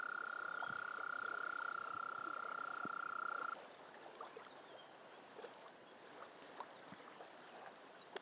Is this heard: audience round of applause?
no